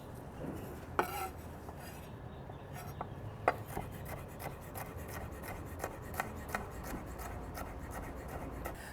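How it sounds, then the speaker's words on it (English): A knife scrapes and taps unevenly on a cutting board while vegetables are diced outdoors at a campfire cook, with a few sharper clicks over a steady low background rumble. "just go ahead and dice them up now"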